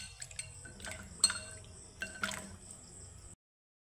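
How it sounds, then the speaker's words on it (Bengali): Jackfruit seeds are rinsed by hand in a bowl of water: quiet, sparse splashes, drips and sloshes come in a few short bursts, then silence. "তো জলটাকে আমি পাল্টিয়ে পাল্টিয়ে আরও 2-3 বার ধুয়ে নেব।"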